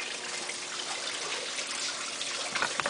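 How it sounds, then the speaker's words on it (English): Coolant streams steadily onto a test rig for a .338 Lapua rifle, a continuous close trickling wash of liquid with a few small splashes near the end and no talking. "So now we're going to turn on the coolant."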